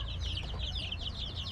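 Giant Indian rooster breed chickens cluck in a brief, close, repeated burst of clucking over low rumbling background noise, with no talk.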